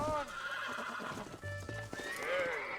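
A horse in Red Dead Redemption whinnies loudly several times while hooves clip-clop during a bronco-breaking scene, with a rising neigh near the end over steady game ambience.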